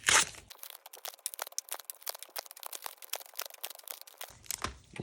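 Foil wrappers on Pokémon card booster packs rip and crinkle close by, a sharp tear at the start followed by a run of quick, uneven crackling rustles and another burst near the end.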